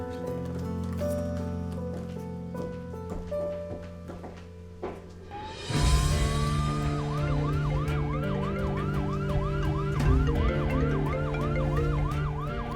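An ambulance siren wails loudly and close, its rising and falling pitch cycling steadily after a brief swell, over a busy mixed background with no talking.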